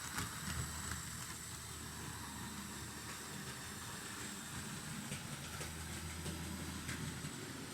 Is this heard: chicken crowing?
no